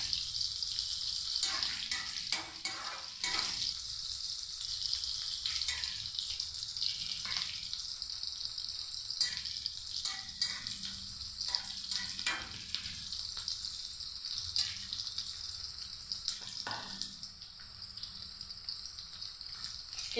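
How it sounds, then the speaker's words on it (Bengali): Chopped onion frying in a pan with garam masala and cumin, a steady close sizzle and hiss running throughout with occasional stirring scrapes, no voices over it. "গরম মশলাটার সাথে আমি পেঁয়াজটাকে ভালো করে ভেজে নেব।"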